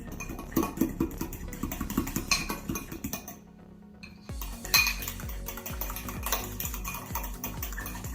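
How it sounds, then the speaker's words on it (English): Cream cheese filling being mixed into a donut topping in a bowl, with close clinking and scraping of a utensil against the bowl in quick strokes, a brief near-silent pause midway, no voices. "We're going to mix some of our cream cheese filling in there because we want that cream cheese flavor on top."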